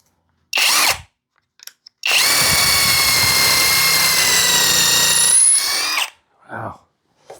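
Brushless 800Nm cordless 1/2-inch impact wrench driving into hard wood: a short burst, then a long sustained whirring hammering run of about four seconds, followed by brief trailing bursts, loud and close.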